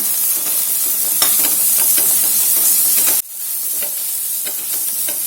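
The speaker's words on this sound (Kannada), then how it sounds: "ಈರುಳ್ಳಿ ಸ್ವಲ್ಪ ಫ್ರೈ ಆದ ನಂತರ ಶುಂಠಿ ಬೆಳ್ಳುಳ್ಳಿ ಹಸಿಮೆಣಕಾಯಿ ಪೇಸ್ಟ್ ಅನ್ನ ಹಾಕೊಳ್ಳೋಣ. ಫ್ರೈ ಮಾಡ್ಕೊಳ್ಳೋಣ." Onion fries in a pan with ginger, garlic and green chili paste, a loud, steady sizzle close by with stirring clicks, dropping suddenly to a softer hiss partway through, with no speech.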